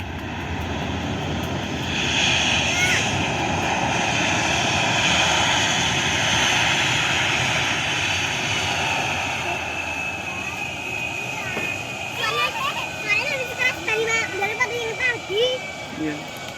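Airplane taking off at Yogyakarta YIA airport in Kulon Progo, a loud jet engine roar with a rising whine that builds, holds, then fades into the distance as people chat briefly near the end.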